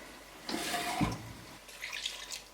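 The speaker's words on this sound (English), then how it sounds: "I'm gonna add a little bit of water" Water pours into a cooking pot of pea stew in a short splashing burst, followed by a fainter trickle, close and alone without talk.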